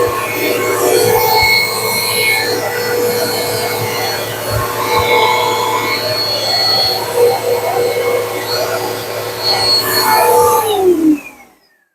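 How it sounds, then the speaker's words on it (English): A household vacuum cleaner sucks up dust left from construction in an AC duct, a steady loud whine and roar running nearly twelve seconds before cutting off abruptly. "Just turn on the vacuum so I can vacuum up some of this dust here real quick."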